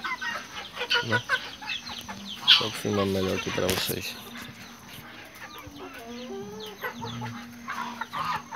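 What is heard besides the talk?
young Índio Gigante rooster among clucking hens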